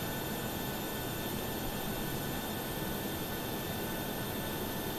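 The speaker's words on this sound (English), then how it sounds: "Why does this plane sound so loud?" Loud, unbroken jet engine roar from a Boeing 737-800 in Microsoft Flight Simulator, a dense steady hiss and whine with thin high tones running continuously and no voices.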